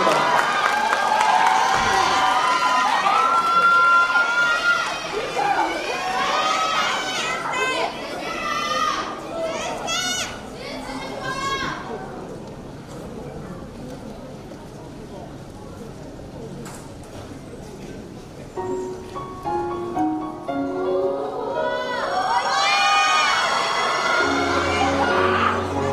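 An audience at a performing arts high school concert cheers and shrieks for a singer taking the stage, with loud excited voices and clapping swelling at the start, easing in the middle, then rising again.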